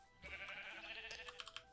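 A sheep bleats in the Minecraft video game, one wavering bleat lasting over a second, fairly faint and alone over a soft background.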